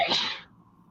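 A single short sneeze, fairly close and sharp, dropping quickly into quiet room tone.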